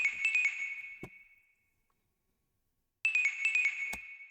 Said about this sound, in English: so I used this pluck dash one shot from Shadow's Haunted one shot kit